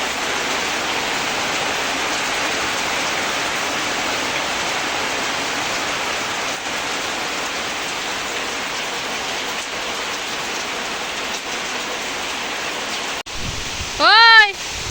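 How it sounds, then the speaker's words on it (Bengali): Heavy rain drums on a tin roof in a Bangladeshi village as a dense, continuous roar, with a brief louder sound near the end. "দেখেন খুব বৃষ্টি আসতেছে কিন্তু অনেক বৃষ্টি হচ্ছে"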